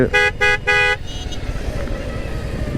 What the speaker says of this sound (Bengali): কিন্তু হর্ন দিলাম